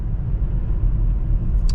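A 2024 Kia Forte LX on 15-inch wheels with plastic hubcaps rolls down the road, heard from inside as a steady low rumble of road and engine noise with no talking.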